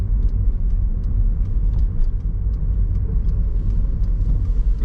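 A car drives at a steady pace and turns off Alkali Road into the Buffalo Chip Campground; a close, continuous low engine and road rumble runs throughout with no talk.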